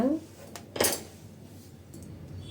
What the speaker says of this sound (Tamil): கத்திரிக்கோல் வச்சு கட் பண்ணிடுங்க